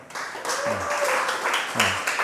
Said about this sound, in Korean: 서로 수고했다고 격려의 박수 한번 줄까요?